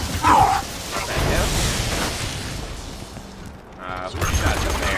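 Video game gunfire hitting a barrel, a loud burst of shots and impact noise at the start followed by rumbling combat sounds, with voices talking over it.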